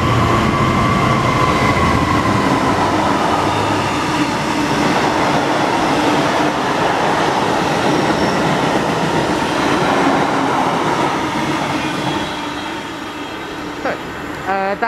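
A heavy Class 66 diesel freight locomotive rumbles past close by at Tilehurst station, a loud steady roar of engine and rolling wagons lasting throughout, easing slightly near the end.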